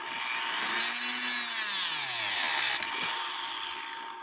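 A power cutting tool grinds a slot into a screw from an 1860 Black Forest wooden-movement clock. It gives a loud, steady whine with a pitch that slides downward as it bites. No one speaks.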